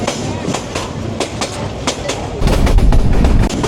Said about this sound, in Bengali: আমাদের ট্রেনটি এখন একদম পুরো একটা ভালো পাক নিল